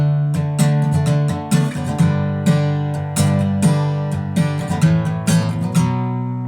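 An acoustic guitar plays the strumming pattern for a song: close, loud rhythmic strums with sharp accented hits and ringing chords, no voice.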